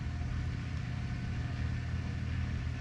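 A mouse-damaged car engine with a freshly repaired carburetor and wiring idles steadily with a low, even rumble, fairly quiet and continuous with no talk.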